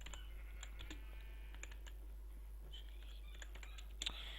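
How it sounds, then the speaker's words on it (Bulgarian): Quiet computer keyboard typing comes in slow, irregular clicks, some keys struck singly and a brief sharper tap near the end, against a low steady hum. "Напоследък пишат доста бавно по клавиатура."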